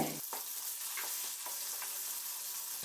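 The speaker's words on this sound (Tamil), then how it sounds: "ரெண்டு மீடியம் சைஸ் பெரிய வெங்காயம் நீல வாக்கில் நறுக்கி வச்சுருக்கேன் இதை சேர்த்து நல்லா வதக்கி விட்டுக்கலாங்க" Steady frying sizzle of sliced large onions in a hot pan, with occasional stirring scrapes, continuous and close.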